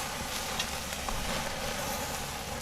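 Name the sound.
steak searing on a grill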